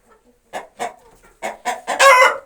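Chickens on a Ukrainian farmstead, a hen clucking after laying an egg: a run of loud, close, separate squawking clucks that build into a longer, harsh cackle at the end, with no talk.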